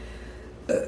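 A single short burp erupts near the end after quiet room tone, loud and close.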